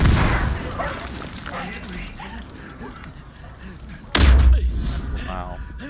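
Burst-fire gunshots in the Far Cry 5 video game: scattered shots through the first seconds, then a loud, booming blast near the end, with players chatting over it.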